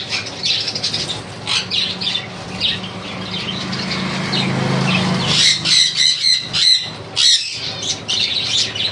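Conure parrots kept in a shop squawk loudly and harshly at close range, giving bursts of shrill calls and chirps, with some wing flapping and a low murmur underneath.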